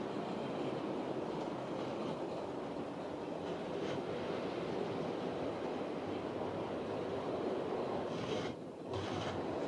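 A model train with the Scotsman locomotive running on a layout alongside a little 0-6-0, a steady continuous rolling rumble and faint clatter from nearby track, with a brief dip near the end.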